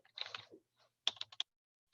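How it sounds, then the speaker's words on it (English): Short bursts of computer keyboard typing, a quick cluster of keystrokes followed by a pause and a few sharper taps, close and quiet with no talking. "Let's type again."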